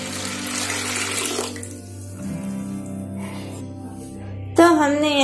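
Water poured over washed sabudana to soak: a rushing pour during the first seconds, then quieter trickling, with a voice near the end.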